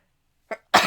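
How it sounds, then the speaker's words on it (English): A quick sharp inhale followed by a single loud, explosive sneeze, close and abrupt. "I'm going to sneeze."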